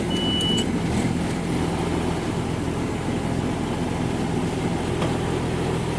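A 7600 tractor runs steadily just after starting, a continuous close engine idle with even rumble throughout and a faint high beep near the start.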